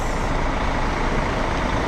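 A bus moves through street traffic near Ben Thanh Market in Vietnam, giving a loud, steady, close engine rumble with no breaks.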